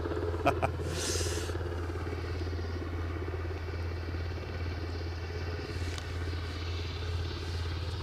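A Bristow Sikorsky S-92A helicopter flies past near Aberdeen, a steady low rumble and rotor drone holding at an even, moderate level throughout with no talk over it.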